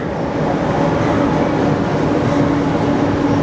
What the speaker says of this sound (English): Oh, look, there's the train right behind me.